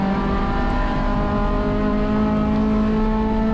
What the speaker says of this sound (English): Tires scrubbing hard trying to come onto this back straight.